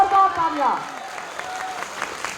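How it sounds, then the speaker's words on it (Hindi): A voice briefly trails off as an audience breaks into applause after a recited verse, the clapping settling into a steady, even wash. "जोरदार तालियां।"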